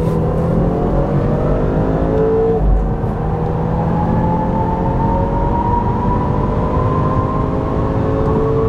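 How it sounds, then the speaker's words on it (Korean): A BMW 530i xDrive M Sport accelerates through a tunnel, heard from inside as a loud, steady engine drone with rising harmonic tones and heavy low rumble and road roar throughout. "그 차량까지 해서 3개의 모델 터널 구간 가속 성능을 비교를 해보도록 하겠습니다."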